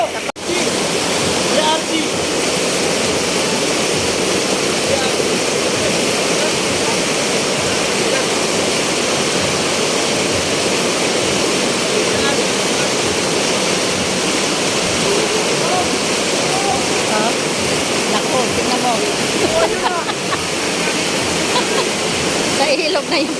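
Flood water rushing steadily through a relocation area, a dense continuous roar like a torrent that stays loud and unbroken throughout, with occasional voices faintly mixed in.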